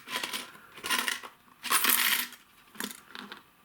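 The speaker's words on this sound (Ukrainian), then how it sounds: "Так, дивіться, виповзає монетка, номер монетки." Small metal clinks and rattles come from a coin sliding and dropping out of a knife trick prop, several short bright bursts close by and fairly quiet, with no talking.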